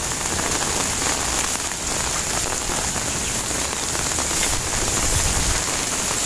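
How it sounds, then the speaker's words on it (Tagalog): Heavy rain pours steadily onto a garden, a dense, even hiss of countless drops hitting leaves and soil, loud and unbroken with no voices. "ang lakas ng ulan ngayon"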